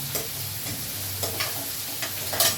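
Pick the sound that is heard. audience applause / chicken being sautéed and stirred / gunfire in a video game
chicken being sautéed and stirred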